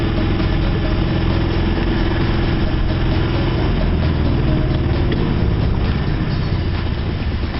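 Sailboat engine idling in neutral while under way, a steady, close, unbroken mechanical drone with a low rumble and no change in pitch throughout.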